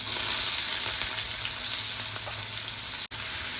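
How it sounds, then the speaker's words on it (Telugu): Chopped onions fry in a pan for a Rayalaseema-style egg curry with shahjeera, giving a steady, close, bright sizzle that carries on throughout with a brief dropout near the end. "నెక్స్ట్ మనము ముందుగా చాప్ చేసి పెట్టుకున్న ఆనియన్స్ వేసుకోవాలండి."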